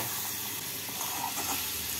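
Boiled rajma beans drop into a pan of frying onion and spices, bringing a brief, moderate sizzle with a little stirring scrape throughout.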